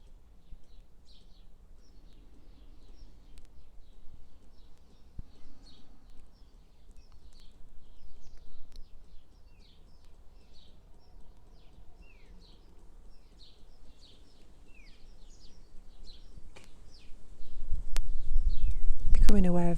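Small birds sing and chirp outdoors in an urban setting, a steady scatter of high calls through the whole stretch, fairly faint against low background rumble that swells toward the end.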